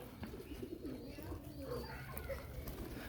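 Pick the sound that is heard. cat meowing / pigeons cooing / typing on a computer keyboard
pigeons cooing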